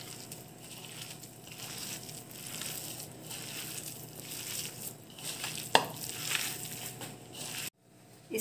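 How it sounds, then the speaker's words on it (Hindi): Jackfruit being mashed and mixed with salt and spice powder for kebabs gives a steady wet squishing and stirring that runs continuously and fairly close, ending in a short pause. "इस तरह से हमने इसे अच्छे से मैश कर लिया है"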